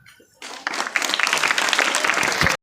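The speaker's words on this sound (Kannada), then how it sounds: "ಯಾರು ಚಪ್ಪಾಳೆ ಹೊಡೆದಂಗವ್ರೆ?" Applause breaks out in a school gathering during a speech by the school development committee president, a dense burst of clapping from a crowd that starts after a quiet moment and continues steadily before cutting off.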